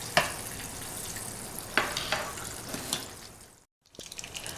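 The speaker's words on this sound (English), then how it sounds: "So we're just going to let this kind of fry up. Till they're golden brown." Chicken fried steaks fry in blended Wesson oil, making a steady close crackling sizzle with a few sharper pops. The sizzle drops away briefly near the end and then returns.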